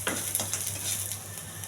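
Dried red chillies and tamarind fry in a pan, producing a brief, soft, steady sizzle with faint stirring scrapes, close by and without speech.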